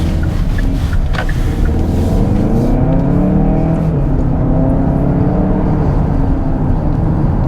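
A 2021 Hyundai Santa Fe Calligraphy SUV accelerates hard in sport mode, its engine note climbing in pitch as it pulls, loud and steady with no speech.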